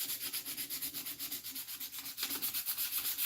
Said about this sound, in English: And now we find ourselves scuffing it back up.